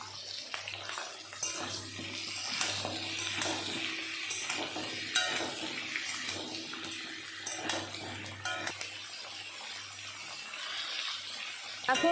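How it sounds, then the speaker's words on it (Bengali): Cauliflower and pumpkin pieces fry in a pan with turmeric and salt for khichuri, giving a steady close sizzle with stirring scrapes throughout and no talking. "ভালো মতন ভেজে নেব। দিয়ে দিলাম হলুদ আর লবণ।"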